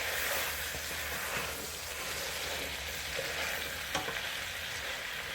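Cow tripe frying in a pan with garlic, onions and carrots gives a soft, steady sizzle and hiss, fairly quiet and continuous, with an occasional light clink of a utensil and no talking.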